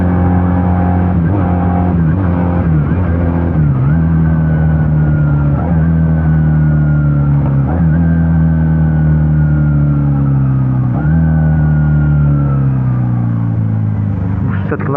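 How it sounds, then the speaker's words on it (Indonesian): A Benelli Patagonian Eagle 250 two-cylinder motorcycle with its stock exhaust revs loudly and close, climbing through repeated throttle blips into long, sustained high-rpm pulls before easing off. "knalpot standar aja begini ya suaranya"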